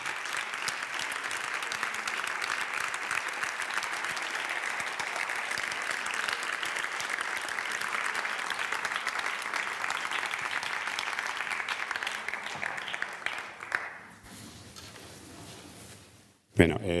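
Sustained audience applause for a speaker named Paloma at the close of a talk on women's sport history, steady and dense for about fourteen seconds before fading into quiet room noise.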